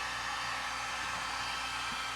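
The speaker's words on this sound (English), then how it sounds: "I'm going to use a heat gun." Heat gun blowing hot air onto a John Deere tractor wheel cap, a steady close broadband whoosh with a faint motor whine, continuous and unbroken, no talking.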